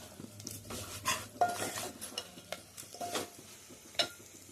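Green gram dal roasts with turmeric in a pan, a spoon stirring and scraping in uneven strokes with sharp metallic clinks over a faint low sizzle, close and quiet.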